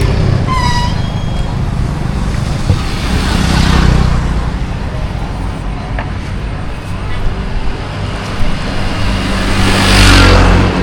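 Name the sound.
cars and motorbikes in street traffic, Pailin, Cambodia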